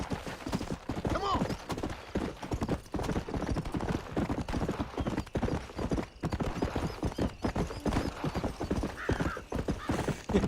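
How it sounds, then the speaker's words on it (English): Horse hooves clip-clop in Red Dead Redemption in a steady, busy rhythm at moderate distance, with a brief whinny early on. "No, it's a horse. That's the horse."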